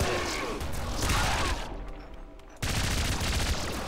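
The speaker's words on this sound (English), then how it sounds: "I'm taking the laser minigun because it's hilarious." Rapid, continuous laser minigun fire from the Nuclear Throne game blazes loudly and densely, with a short break near the middle before the barrage picks up again.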